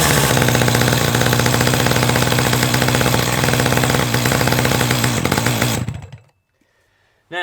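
A chainsaw engine runs loud and steady close by for about six seconds, then cuts out abruptly, leaving near silence before a brief sound at the very end.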